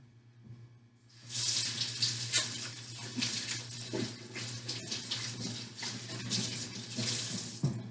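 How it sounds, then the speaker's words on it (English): Hands being washed under a running kitchen tap, a close steady splash of water that starts abruptly after a second of quiet and keeps gushing with small rubbing and dripping changes. "Wash my hands."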